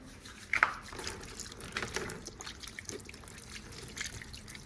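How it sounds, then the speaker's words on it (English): Water splashing and dripping as hands are washed in a Jamaican home kitchen before cooking, a soft irregular trickle with a few brighter drips, faint and close, no speech. "make sure wash your hands"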